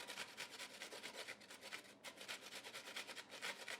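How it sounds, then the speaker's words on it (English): An onion rubbed against a hand grater gives a soft, steady rasping scrape in quick repeated strokes, close and fairly faint, with no talking. "Just to show you, you can grate your onions."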